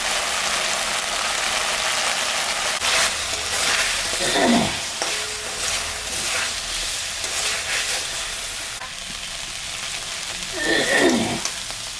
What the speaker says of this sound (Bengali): মশলাটা ভাজা হয়ে গেছে